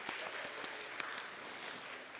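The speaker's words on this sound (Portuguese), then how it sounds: "Uma salva de palmas para vocês aí." A class applauds together in soft, fairly distant clapping, with a few sharper individual claps poking through a quiet, continuous patter.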